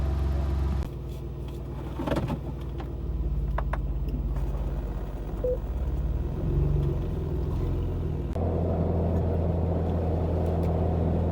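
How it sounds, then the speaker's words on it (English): A Jeep JK rolls down a town road after a unit bearing replacement, with a steady low engine and tire rumble heard from inside the cabin and a brief shift in tone near the end. "So here we go, driving down the road"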